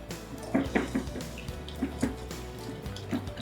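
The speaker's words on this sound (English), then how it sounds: "So I'm going to add half of the milk and stir vigorously" Milk is poured into a custard mix of eggs and cornstarch and stirred vigorously, with close, soft liquid sloshing and a few light knocks of the utensil against the bowl.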